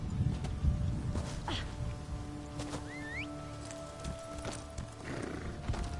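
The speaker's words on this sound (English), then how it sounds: "I love how they named the horse Sweet Roll." Quiet clip-clop of horse hooves on a hard surface in the video game Elder Scrolls Online, with a brief whinny in the middle and a low ambient hum throughout.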